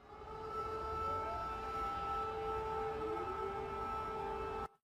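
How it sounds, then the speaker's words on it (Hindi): An air raid warning siren in Ukraine, a steady wailing tone with gliding pitch, sounding continuously over distant background hum for several seconds before cutting off abruptly. "ये सायरन बजा, आपने सुना"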